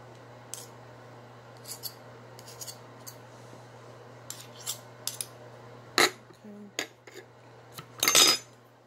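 Two spoons and a fork clink and scrape against a container while natural vegan deodorant ingredients are mixed, with scattered light taps that grow into louder clatters near the end over a low steady hum.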